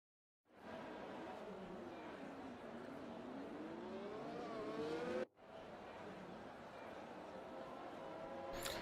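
A field of Formula 1 cars in a racing video game pulls away for the formation lap at the Brazilian Grand Prix, a loud, steady engine roar with rising pitch sweeps and a brief cut midway.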